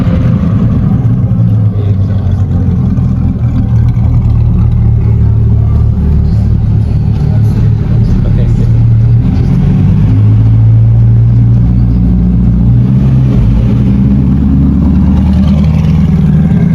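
A C8 Corvette fitted with high-flow cats drives close by, giving a loud, heavy, unbroken exhaust rumble that holds steady for the whole stretch.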